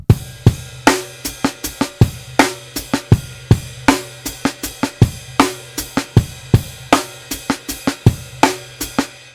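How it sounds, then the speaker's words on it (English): A drum kit plays the amen break slowly: a steady breakbeat with kick, snare and hi-hat strokes in a loping, syncopated pattern, close and clear with no talking. "Classic amen break."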